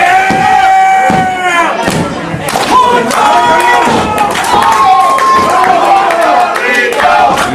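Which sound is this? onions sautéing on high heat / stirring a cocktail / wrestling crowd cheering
wrestling crowd cheering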